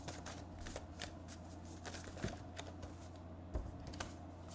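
A deck of playing cards is shuffled with quick, faint riffling and light tapping clicks over a steady low background hum, with no talking.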